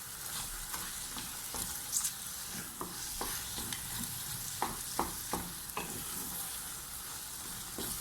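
Makhandi halwa with raisins is stirred in a pan, a soft steady sizzle broken by repeated scraping clicks of the spoon at an irregular rhythm, fairly quiet and with no voices.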